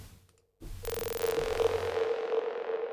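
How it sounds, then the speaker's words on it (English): After a brief silence, a sustained tone swells in Ableton Live with an echo effect, smearing into a steady ringing wash that repeats and lingers as a dense, droning tail. "Pop on the echo."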